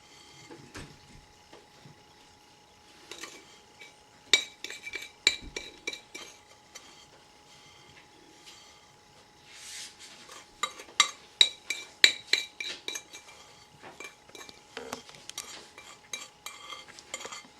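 Frozen blueberries go into a pie pan with a run of light clicks, clinks and rattles, scattered in irregular bursts that are quiet and close, with pauses between handfuls.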